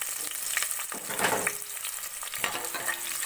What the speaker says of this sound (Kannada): ಈರುಳ್ಳಿ ಚೆನ್ನಾಗಿ ಸ್ವಲ್ಪ ಎಣ್ಣೆಲಿ ಫ್ರೈ ಆಗಲಿ